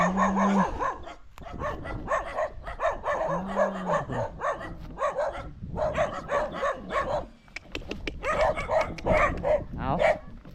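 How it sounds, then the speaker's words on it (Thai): A village dog barks repeatedly at a rural hillside settlement, the barks coming at a steady rhythm at moderate distance with a voice talking over them in places. "ได้ยินเสียงหมาเห่าเลย"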